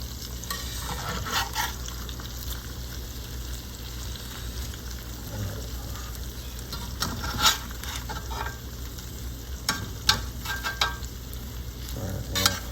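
Crumbed pork chops frying in olive oil, a steady close sizzle and crackle with occasional scraping and clinks as they are turned in the pan, no talking.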